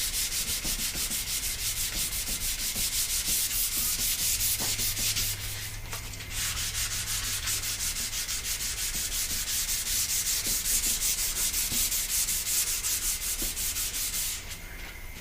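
A wooden skateboard deck is sanded slowly by hand, the paper rubbing in a steady continuous scratch that runs almost without pause, close and even.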